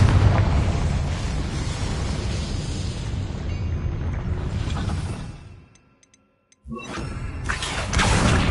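A Confringo blasting spell goes off in Hogwarts Legacy, a loud, sustained explosive roar that fades to near silence before a second burst of blast noise rises again.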